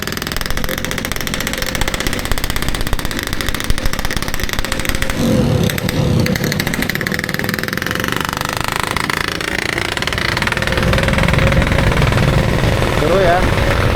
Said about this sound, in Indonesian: Tuh berisik banget nih motor.